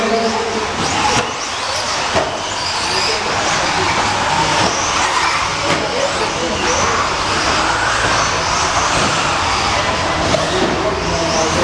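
Many small RC truggy engines at the start of an off-road race A main, a dense loud whining roar that holds steady throughout with no pauses.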